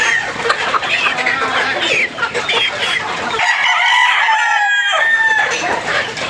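Healthy free-range roosters and hens on a Philippine poultry farm crow and cluck continuously, several birds close by with a clear crow rising in the latter half over a busy yard background.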